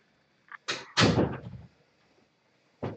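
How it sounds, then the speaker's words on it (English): A door is pushed shut in a room during a live coding class, giving a few quick thumps and a solid closing thud, then quiet, with one more bump near the end. "Let me go close the door here before too many noises come in."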